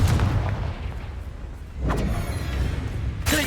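A Confringo fire spell explodes in the video game Hogwarts Legacy, a deep booming blast followed by a second burst and a sharp crack near the end, loud and close with rumbling tails, no voices.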